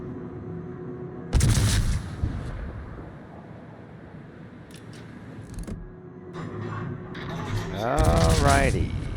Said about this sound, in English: Getting a few early shots while I can on that Bazarski.